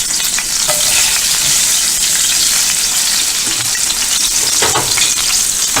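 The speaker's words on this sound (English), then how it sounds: "we're gonna take these onions that we sliced already and place it in the pan with the oil" Sliced onions sizzle steadily in hot oil in a pan with pork chops, a loud, continuous close-up hiss with occasional stirring scrapes and no talking.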